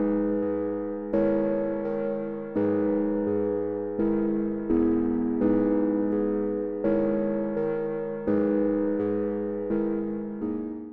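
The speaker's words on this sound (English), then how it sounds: "The first thing I started off with was these bells or keys with this Damascus preset." Bell-like keys synth from the Damascus preset on the Arturia Korg MS-20, played dry with no effects: a sequence of sustained, ringing chords struck about every second and a half, each fading slowly before the next, alone and clear.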